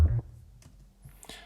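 A sub bass chop pitched up twelve semitones through a Portal shifting preset, used as a glitchy stutter layer in an electronic beat: a loud low thump opens, then faint flickering clicks and pitched glitch blips follow.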